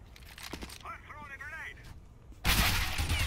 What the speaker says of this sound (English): Shooting your own teammate